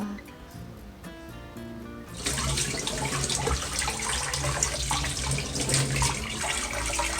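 Tap water gushing loudly into a sink to rinse a washing machine filter, starting abruptly after a quieter stretch with background tones, then a steady close splashing rush.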